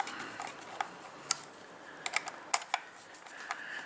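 Small metallic clicks and ticks of a screwdriver loosening screws on a guitar plate, scattered irregular taps close up over a faint background hiss.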